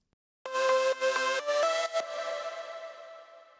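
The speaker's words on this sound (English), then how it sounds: "I am actually sidechaining the reverb of the lead to the lead itself" A progressive house synth lead plays a short bright phrase of chopped chords, then stops as its sidechained reverb swells up and rings out in a long fading tail, alone with no voice.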